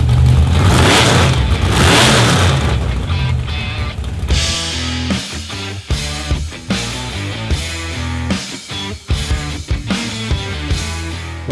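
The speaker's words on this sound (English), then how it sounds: "we're actually testing a Chevy Small Block" A Chevy Small Block V8 with new cylinder heads and intake manifold runs on a dyno, a loud sustained pull at first, then a series of sharp, choppy revs and blips, close and without talk.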